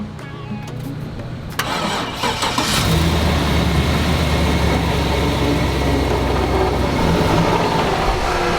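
Engine of a bus parked at a beach in El Salvador cranks after its battery had died. It catches and settles into a loud, steady idle close by, and a voice briefly sounds beforehand.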